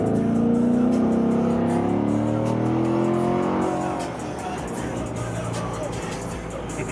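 Corvette accelerating hard with a passenger aboard: a strong, rising engine note pulls through the first few seconds, then settles into a steadier, lower roar of road and wind noise as the car speeds on.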